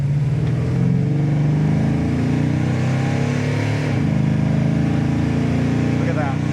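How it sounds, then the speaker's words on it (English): A 1970 Dodge Super Bee accelerates through its gears on a test drive, giving a loud, steady engine roar heard from inside the car. The pitch shifts as it changes gears, with voices faintly beneath it. "Now we'll go through the gears and open it up a little bit."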